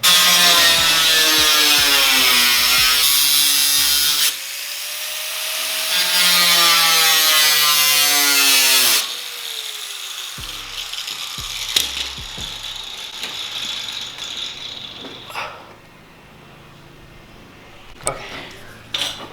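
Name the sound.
grinder cutting a car fender for a Subaru widebody kit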